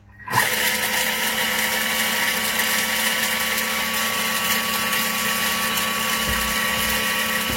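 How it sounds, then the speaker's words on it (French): A Thermomix TM6 blends lemon tart ingredients and lemon zest at speed 7, giving a steady, loud whirring motor drone that holds for several seconds with no talk over it. "On va mélanger 7 secondes, vitesse 7."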